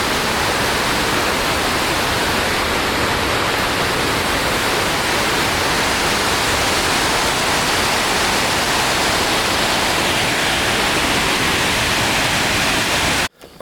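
A waterfall in Japan roars in a dense, continuous rush of falling water, loud and close, holding steady throughout before cutting off abruptly at the end.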